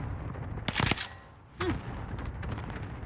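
Video game gunfire in an online shooter, a quick burst of shots followed by a second shot, over a steady background din with no talking.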